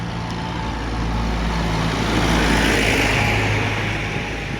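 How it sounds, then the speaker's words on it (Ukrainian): A tractor drives past on a village road, its steady engine drone swelling as it nears and fading slightly after, with no talking. "О, тракторець."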